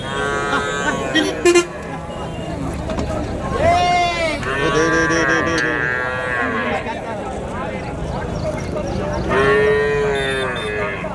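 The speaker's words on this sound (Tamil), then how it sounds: "கண்ணுக்குட்டிங்கெல்லாம் இருக்குது பாரு நாட்டு கண்ணுக்குட்டிங்கெல்லாம் உள்ள ஒரு நாலு கண்ணுக்குட்டி இருக்குது" Cattle and calves moo loudly and repeatedly at the Madrapalli native cattle market, with long drawn-out calls rising over the steady talk of people nearby and a brief horn toot.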